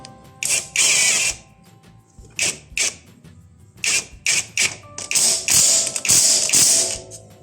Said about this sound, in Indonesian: Terakhir tinggal kencengin aja baut ini.